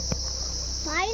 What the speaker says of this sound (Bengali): সেই একটা পোকার আওয়াজ, ঝিঝি পোকার মতো আওয়াজ।